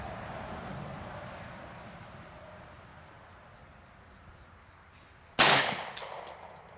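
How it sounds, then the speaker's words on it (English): A single sharp gunshot cracks out at an outdoor gun range after a stretch of quiet wind noise, followed by a short ringing echo and a faint metallic clink. "let's just shoot it and see what it does"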